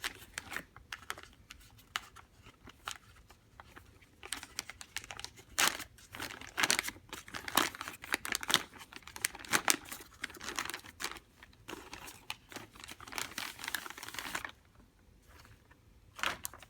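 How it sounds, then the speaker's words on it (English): Plastic packaging of a Foley catheter kit is opened in a run of crisp crinkling and crackling bursts at close range, some louder, with quiet gaps between them. "We're going to work on opening our catheter kit."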